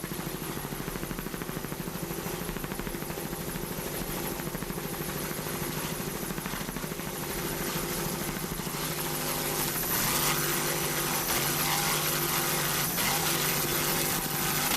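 A loud, roaring powerboat inboard engine drones continuously at a Key West offshore racing championship, its pitch rising and falling as the throttle is worked, heavy and close throughout.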